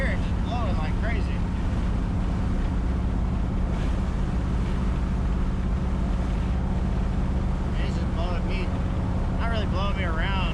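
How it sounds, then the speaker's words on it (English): Strong wind blows hard across the microphone in a constant heavy rush beside an LS-swapped S10 pickup in southern summer heat, with someone speaking over it throughout. "The wind is freaking strong today. Y'all can hear it just blowing like crazy."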